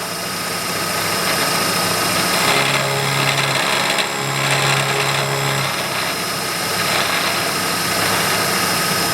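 A lathe cuts soft copper jaws at 1600 RPM, making a steady mechanical whir and hum with a faint tonal whine that comes and goes twice as the tool engages, heard nearby without speech.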